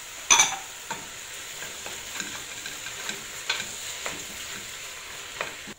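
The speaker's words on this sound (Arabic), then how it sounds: "نزيدوا نضيف عليها الطماطم ونزيدوا نخلوهم يتقلاو شويه" Sweet red peppers and tomatoes frying in a pan: a constant low sizzle broken by scattered clicks and scrapes of stirring, one sharper clatter early on, close and with no speech.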